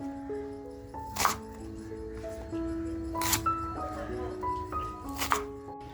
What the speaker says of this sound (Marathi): त्याच्यानंतर कांदा कापून घेते.